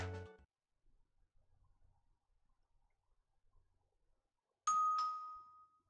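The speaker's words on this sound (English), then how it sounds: "Doorbell!" A doorbell in the video game Blue Archive gives a single bright ding-dong chime that rings on and fades, after near silence with only faint soft ticks.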